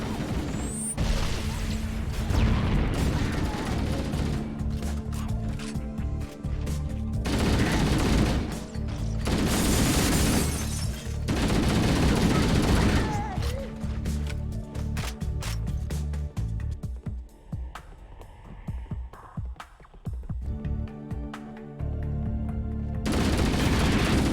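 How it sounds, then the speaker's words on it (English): Needler fire in a Halo CE co-op campaign on Heroic: loud, sustained bursts of rapid gunfire and crashing impacts, with brief pauses between volleys. "When I'm lighting them up with the needler, sometimes I like run at them and then I end up exploding with them."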